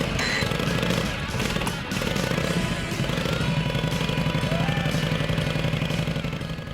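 A 1972 Honda 750 motorcycle with a bored-out engine runs steadily nearby, a loud continuous clattering mechanical drone that holds its level throughout.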